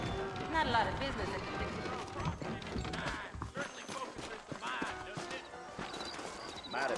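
Saddled horses clop along at a trot in the Western game Red Dead Redemption, with steady close hoofbeats and an occasional whinny as voices talk over them.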